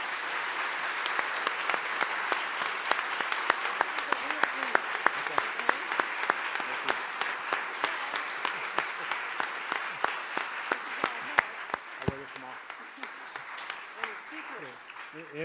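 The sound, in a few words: audience applause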